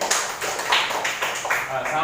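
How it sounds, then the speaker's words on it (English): A class of fifth-grade pupils claps for a classmate during an English lesson, a series of quick, rhythmic claps heard near and moderately loud, with a teacher's voice talking over them. "Clapping for him."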